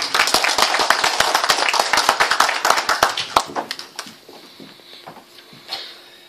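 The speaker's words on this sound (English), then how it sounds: "So I would like everybody to give a round of applause to George Galloway" Clapping for a speaker at a political meeting, sharp, distinct hand claps from a small crowd at first, thinning into scattered claps that fade under murmuring voices in the background.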